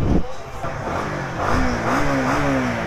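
A Honda Winner X 150 underbone motorcycle engine is revved by throttle blips, its pitch climbing and holding in a close, loud buzzing drone while someone talks over it.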